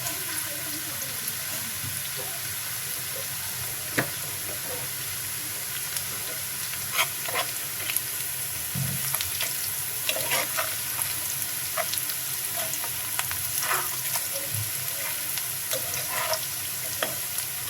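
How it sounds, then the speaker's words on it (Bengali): Hilsa fish pieces hit hot oil over golden fried onions for mustard hilsa, setting off a steady, quiet sizzle with occasional spits, pops and stirring clinks throughout. "এখন আমি মাছ দিয়ে দিচ্ছি"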